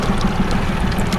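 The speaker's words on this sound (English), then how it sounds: "I always leave my motor running because some of these spots are so heavily traveled, fish don't mind the sound of the motor." A fishing boat's outboard motor idles steadily out on a walleye lake, a low, even putter pulsing at a regular beat with a faint wash of water. It is loud and close, and no voices are heard.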